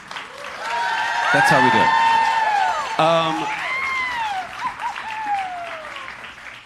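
An audience claps at a live Stray Gods music evening, steady applause that swells and then tapers while a voice speaks over it and sung or whooped tones ring out.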